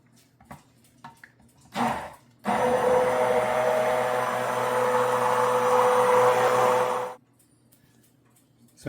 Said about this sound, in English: you have to be running a blender when you put this in